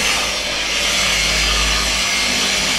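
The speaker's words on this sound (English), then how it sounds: "So we've got Terry using the machine polisher and with the black finishing disc and our ultimate liquid wax." A machine polisher with a black finishing disc buffs liquid wax onto a car, giving a loud, continuous whirring drone with a constant low hum and no pauses.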